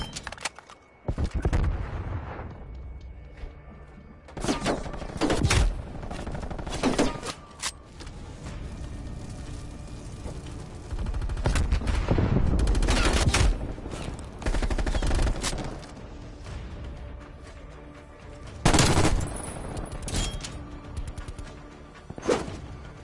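Hostile sentry turret gunfire in a video game: several loud bursts of rapid automatic shots with whooshing and mechanical clatter between them, spread across the clip with quieter gaps.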